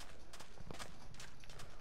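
A horse's hooves clip-clop in a video game, a few quiet, uneven beats at low volume.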